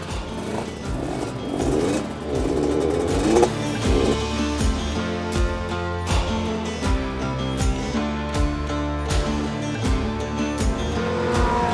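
Kawasaki KR-1S two-stroke motorcycle engine warming up at a Cadwell track day, a steady, loud, continuous buzzing drone with harmonic whine, the revs rising and falling slightly throughout, alone with no talk.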